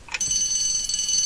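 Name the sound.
bell ringing to end a radio quiz round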